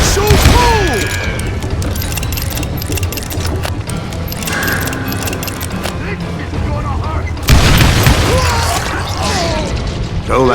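Gunfire in Call of Juarez Gunslinger, a Western shooter, with repeated loud booming shots and clattering bursts through a dense mix of game music and effects, intensifying near the end.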